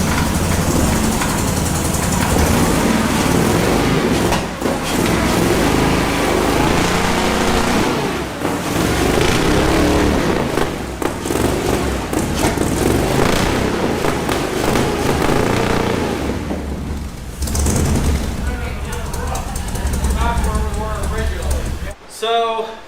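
A large custom-built off-road wrecker's computer-controlled engine fires up and runs, a loud continuous rough roar with crackling pops and revs, easing off near the end.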